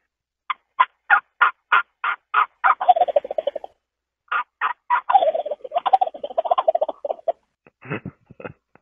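Turkey call imitating a hen: a quick series of close, loud yelps, then a rattling gobble, more yelps and a second gobble, ending in a few deep low notes, with no talking.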